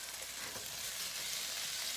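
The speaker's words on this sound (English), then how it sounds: "And we're just gonna saute that for a little bit just to get the bite out of them since they've been canned." Canned vegetables sauté in a hot pan for spinach artichoke dip, giving a steady, even sizzle and crackle that fills the moment, close and moderately loud, with no speech.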